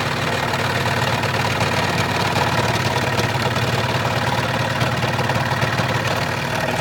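A scroll saw runs at speed cutting through material, giving a loud, steady mechanical buzz with a fast regular chatter from the reciprocating blade and no pauses.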